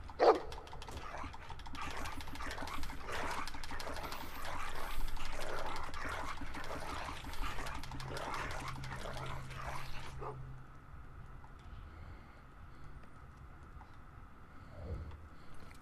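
A dog in a Game of Thrones RPG video game barks and whimpers in quick repeated yips over a murky game soundscape, fairly close, fading to quieter ambience near the end.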